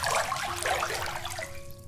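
Bath water running from a tap into a tub in the horror game Silent Still, a close, steady splashing gush that eases toward the end as a faint tone rises.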